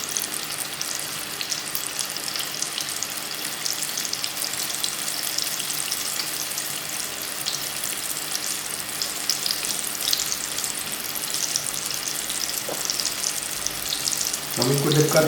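Chicken tempura frying in hot oil, a dense steady crackle and hiss that holds evenly throughout at moderate level, with a brief louder burst of bubbling near the end.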